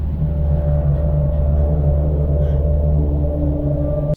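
Layered dark ambience of steady low humming, slow metallic creaking and a deep rumbling musical drone, played together as a continuous dense bed of sound at full level, no talking.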